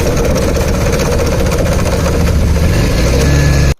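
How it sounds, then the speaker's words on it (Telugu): A Bajaj Pulsar motorcycle with a worn clutch plate and oil pump wheel problem running, a loud, steady close engine drone that holds throughout and then cuts off abruptly at the end. "పల్సర్ బైక్ సౌండ్ అయితే ఒకసారి రన్నింగ్లో ఎలా వస్తుందో వినండి."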